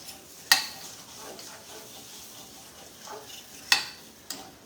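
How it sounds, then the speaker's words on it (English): A spoon scraping through flour being stirred into hot grease for gravy, with a soft sizzle underneath and a few sharp clinks against the pan, quiet and close. "And as you sprinkle it, then you need to be stirring."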